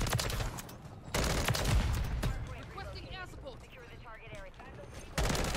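Full-auto M16 bursts in Modern Warfare 3 crack out in loud, close strings, with a pause in the middle where someone talks before the rifle opens up again at the end.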